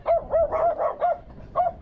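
Several small dogs bark repeatedly nearby, about six sharp barks in an uneven rhythm with no talking.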